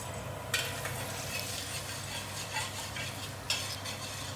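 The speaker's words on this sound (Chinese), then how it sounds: "我现在开始炒了这个先" Garlic is stir-fried in a wok for a bell pepper chicken dish, with a steady sizzle and hiss under scraping stirring and two sharper metallic clinks of the utensil against the pan.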